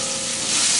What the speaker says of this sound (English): we're going to start off putting these onions in here